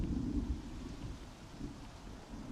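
Rain falls with low rumbling thunder in the video game Starfield, a soft, steady storm bed that stays quiet and continuous with no talk over it.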